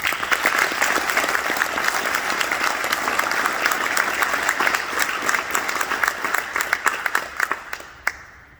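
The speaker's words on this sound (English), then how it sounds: "Please give them a round of applause." An audience at a ceremony gives a steady round of dense applause that thins into a few scattered claps before it stops.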